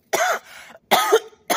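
A person coughs close by in three sharp, harsh bursts, each hacking with a throaty rasp, separated by brief silences, with no talk around them.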